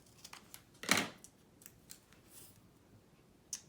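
Scissors cutting a thin foam strip in half for a holiday paper craft, with one sharp close snip followed by a few faint small clicks and rustles, quiet and alone.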